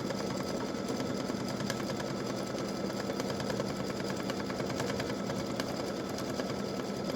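A machine embroidery rig stitches out a butterfly and hibiscus design in variegated thread, giving a continuous, even mechanical whir with a fast rapid-fire needle rhythm throughout.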